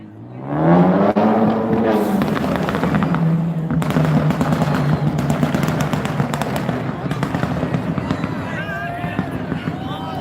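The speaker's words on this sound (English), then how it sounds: "Oh my gosh, that car sounds fast." A fast car roars past during a nighttime curfew protest in Tucson, its loud engine rising over crowd noise, chanting and nearby talk before fading away.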